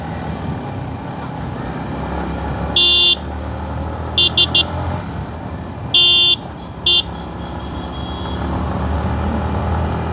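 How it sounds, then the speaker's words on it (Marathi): A Yamaha MT-15 motorcycle rides through traffic past cars, with a steady road and engine rumble and several short, loud horn honks in bursts near the middle. "तर आता जाऊया आपण ह्यांना पण ओव्हरटेक करून."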